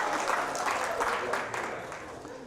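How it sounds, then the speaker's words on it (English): Audience members at a motivational talk clap their hands together, a dense wash of crowd clapping that holds steady and then gradually tapers off, with voices mixed in beneath it. "clap your hands if you believe it"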